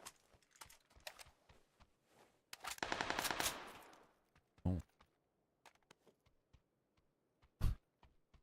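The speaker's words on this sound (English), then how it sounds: "then there's literally someone fires a gun" Gunfire bursts out in the video game PUBG on console: a short rapid automatic volley followed by a few isolated, fairly faint shots amid light clicking, with no talk.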